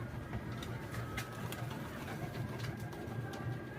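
Pigeons coo softly and steadily, with occasional wing flaps and light taps as birds fly and land, under a constant low background hum.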